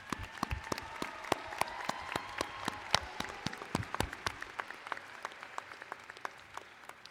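Graduation ceremony crowd applauding the faculty at an evening commencement. Individual claps are distinct and sound fairly distant and quiet, forming a loose, scattered patter that gradually thins out.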